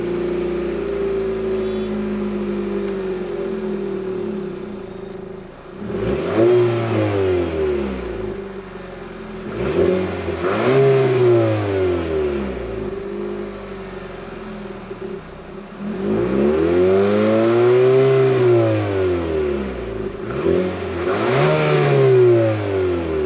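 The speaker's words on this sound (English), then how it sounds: "take a listen to this engine from the outside at the tailpipes" Revving from the tailpipes of a 2025 Nissan Murano SL: a steady idle broken by four sharp throttle blips that rise and fall back, heard close up from outside.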